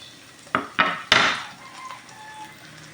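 Onion and garlic dropped into hot oil in a 4L Hodekt multifunctional electric pot, giving three quick sharp bursts of sizzle that fade into a softer, steady crackle.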